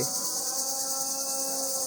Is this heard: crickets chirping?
yes